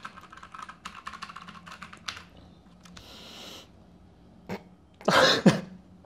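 Typing on a pink computer keyboard, judged to be high quality: bursts of crisp key clicks in quick runs, then a pause, a single tap and a louder clattering flurry at the end, close and clear with no talking.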